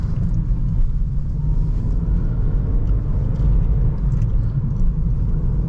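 A 9th-generation 2012-2013 Honda Civic Si with a 2.4-litre K24Z7 engine driving, heard from inside as a steady low engine and road rumble with no talking.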